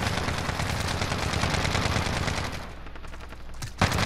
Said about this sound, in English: Dude, that hip fire.